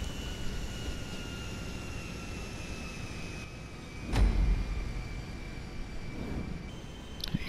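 Steady drone of a cargo plane's engines in GTA 5 Online, a continuous hum with a brief louder swell midway and no talking.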